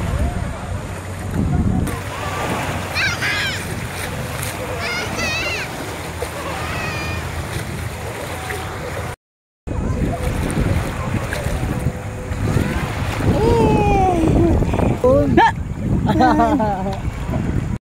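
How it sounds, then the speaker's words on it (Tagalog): Ocean waves wash in at a beach resort in Puerto Ternate, Cavite, with a constant surf rush under heavy wind buffeting on the microphone. People talk excitedly over it, and the sound cuts out briefly midway. "Ang alon dito."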